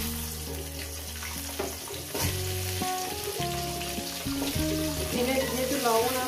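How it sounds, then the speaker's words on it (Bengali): Potato pieces fry in oil with cumin seeds, salt and turmeric, giving a steady sizzle throughout that sits beneath louder tonal background music. "এটাকে আমি সুন্দর করে 5-6 মিনিট করে আলুটাকে ভেজে নেব"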